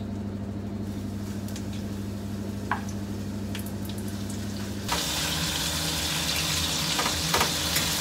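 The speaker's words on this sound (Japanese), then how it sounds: "ちょっと多めに油を引いて揚げ焼きっていうのかにします。" Starch-coated pieces shallow-frying in a generous layer of oil, giving a steady close sizzle and crackle that grows louder and brighter partway through, with no talking.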